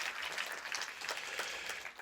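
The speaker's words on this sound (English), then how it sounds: "let's give Eric a round of applause" A seated audience claps in a round of applause at a screening event, dense steady clapping filling the room at a fairly even level, somewhat distant, with no voices over it.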